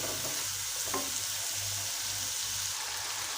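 Masala gravy sizzles and fries in a pan while being stirred, a steady close crackle with occasional scraping, for a village-style potato and egg curry.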